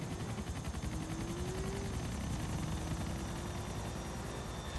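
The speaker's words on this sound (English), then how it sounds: "There's a plane." Aircraft passing overhead in the multiplayer game GTA IV, a steady broadband engine roar with a faint pulsing flutter that holds level and continuous for the whole stretch, with no talk over it.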